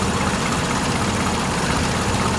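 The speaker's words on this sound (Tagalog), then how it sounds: "painitin muna natin yung makina" A cold Toyota 4K car engine idles steadily while warming up, with a low, continuous rumble and faint mechanical vibration, close by and unbroken throughout.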